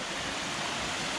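Piney Creek Falls at Fall Creek Falls State Park in Tennessee, pouring down into a swimming hole, gives a steady, dense roar of falling water that fills the whole moment without any break or voice.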